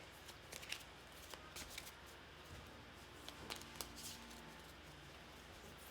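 A deck of cards is shuffled during a tabletop card game, giving a soft, quiet riffling patter with scattered light clicks close by and no talk.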